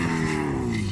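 A racing car in a super sprint race passes close by, a loud sustained engine drone with a slightly falling pitch across a brief moment.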